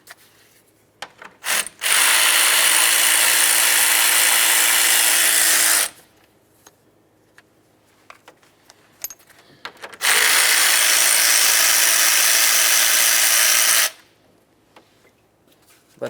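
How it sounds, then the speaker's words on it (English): Two long, loud bursts of ratcheting remove the 10mm bolts holding the radiator fan assembly on a 2007-2012 Nissan Sentra. Each burst runs about four seconds, with quiet clinks of handling between them. "we can remove our two 10mm headed bolts that hold the fan assembly to the radiator"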